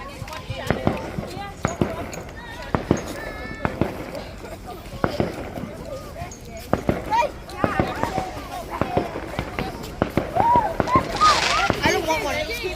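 Small rocket fireworks on bonfire night in Glasgow crackle and pop in rapid irregular bursts, with sharp bangs scattered throughout and people talking nearby over the noise.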